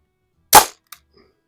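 A Crosman M1 carbine air rifle fires a BB at a target: one sharp, loud close shot followed by a quick faint impact tick and a tiny trailing rattle.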